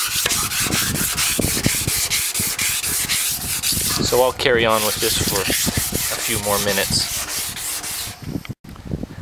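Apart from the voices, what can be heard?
wet sanding a satellite dish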